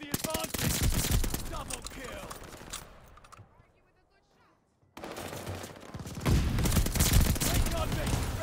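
MP40 submachine gun fire in a video game: rapid, loud automatic bursts rattle close up, break off into near silence for a moment, then resume in dense sustained volleys.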